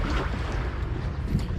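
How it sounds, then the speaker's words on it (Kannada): Tourist boats head out to sea near St. Mary's Island at about 7:45 in the morning, a steady engine and water rush mixed with wind noise, close and continuous with no talk. "ಟೂರಿಸ್ಟ್ ಬೋಟ್ಗಳೆಲ್ಲ ಹೊರಡ್ತಾ ಇವೆ ಹೊರಗಡೆ ಹೋಗ್ಲಿಕ್ಕೆ"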